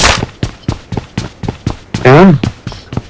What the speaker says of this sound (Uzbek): Orqamda yana otishma boshlanadi.